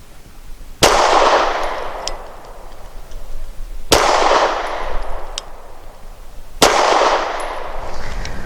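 Grand Power Q100 pistol firing Norma Hexagon 124 grain rounds, three sharp, loud shots spaced about three seconds apart, each followed by a ringing echoing tail at an outdoor range.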